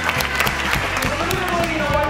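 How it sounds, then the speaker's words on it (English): Audience applause at a kids' magic show, a steady wash of clapping hands from a crowd sustained throughout, with a bit of speech mixed underneath. "Please give Devin a nice round of applause."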